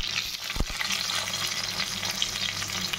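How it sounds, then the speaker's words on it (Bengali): Onion, tomato and potato frying in oil in a wok, a steady close hiss of sizzling with one brief low knock from stirring near the start. "পেঁয়াজটা একটু ভাজা ভাজা হবে"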